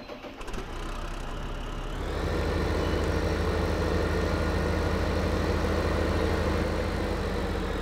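Tractor engine in Farming Simulator 2015 rumbling into a steady low idle after a brief rough start, the drone holding even and close for the remaining seconds, no talk.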